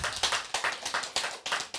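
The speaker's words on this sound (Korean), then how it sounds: "우리 잠시 박수로 환영해 주시면 감사하겠습니다" Applause at a welcoming ceremony, with sharp rhythmic clapping from a small group, evenly spaced and close, the claps falling in a steady beat.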